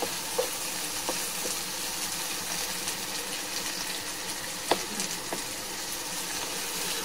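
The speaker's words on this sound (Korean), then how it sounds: "자, 볶아줄게요. 양파가 숨이 죽고 다 익을 때까지 다른 거안 하겠습니다." Onions and green onions stir-fry in a pan on an induction cooktop, a steady close sizzle broken by occasional light clicks and scrapes of stirring.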